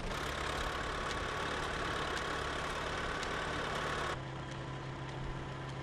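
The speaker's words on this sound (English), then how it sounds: "Eamon's new Fordson is driving the thrasher and the baler" A vintage Fordson Major tractor engine drives a threshing machine and baler by pulley belt on an Irish farm, giving a steady droning hum with faint regular knocks, loud and unbroken throughout.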